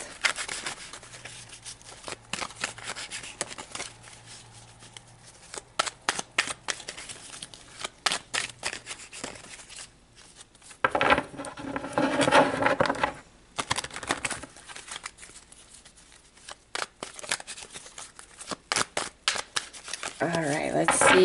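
Tarot cards are shuffled in repeated quick riffles and soft slaps, close and crisp. A busier, denser stretch of shuffling comes midway, with quieter handling between.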